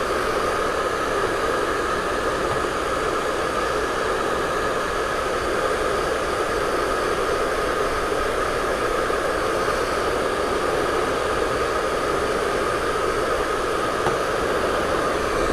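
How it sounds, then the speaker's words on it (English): A handheld blow dryer running on its cold setting, a steady, loud, unbroken whoosh of rushing air with an even motor hum throughout, drying a St. Patrick's Day light-up jar craft, with no voices. "or not iron, but a blow dryer."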